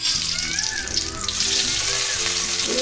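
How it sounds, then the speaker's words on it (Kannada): Mustard seeds, garlic and curry leaves crackle and sizzle in hot oil, a dense, steady frying hiss with spattering pops, close and loud, while a voice talks faintly underneath. "ಸ್ವಲ್ಪ ಸಾಸಿವೆ ಹಾಕ್ತೇನೆ, ಸ್ವಲ್ಪ ಬೆಳ್ಳುಳ್ಳಿ ಹಾಕಿದ್ದೀನಿ, ಸ್ವಲ್ಪ ಬೇವಿನ ಸೊಪ್ಪು"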